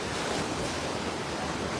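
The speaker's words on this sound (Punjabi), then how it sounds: "ਤੁਸੀਂ ਪਾਣੀ ਦਾ ਇਹਦਾ ਬਹਾਵ ਦੇਖੋ" Floodwater surges through a city street during very heavy rain, a steady, dense roar of rushing water that fills the whole moment at close range, loud and unbroken, with no voices.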